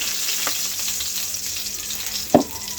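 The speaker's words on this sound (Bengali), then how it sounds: "প্রথমে আমি দিয়ে দিচ্ছি তেজপাতা এবং এলাচ, দারচিনি, এলাচ এগুলোকে দিয়ে আমি প্রথমে নাড়াচাড়া করছি।" Bay leaf, cardamom and cinnamon sizzle in hot oil in a pan, a steady soft frying hiss with a couple of sharp clinks from stirring, no voices.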